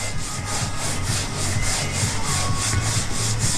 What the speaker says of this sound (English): you'll just run them over the top of the body filler and just sort of carve it out